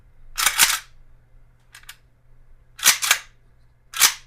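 An AK rifle fitted with an AKFLEX trigger is cleared in a few sharp metallic clacks, paired snaps separated by short gaps, close and loud against a quiet room hum.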